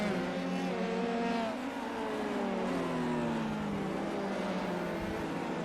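Race cars in iRacing lap traffic at Long Beach, iGPFun-F3 open-wheel racers: loud high-revving engines whine close by, with pitch sweeping down as cars pass and shift, overlapping into a continuous buzzing drone.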